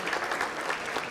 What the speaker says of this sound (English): A warm applause as well from the audience, please.